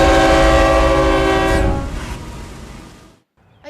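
A train passes close by, its loud sustained horn blaring for over a second before the rumble of the cars fades out, followed by a brief near-silence.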